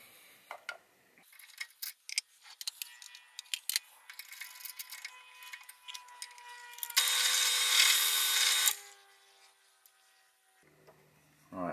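Scattered clicks and taps give way to a loud, steady burst of drilling for about two seconds, followed by a few quieter knocks.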